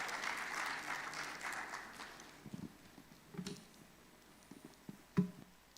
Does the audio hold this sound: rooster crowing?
no